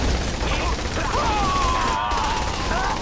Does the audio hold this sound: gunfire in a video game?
yes